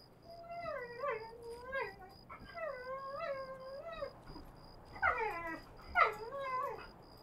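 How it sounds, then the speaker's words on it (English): Dogs howling and whining in a room, a series of faint rising and falling wails, with sharper yelps near the end over a quiet steady background tone. "Please stop making noise, dogs."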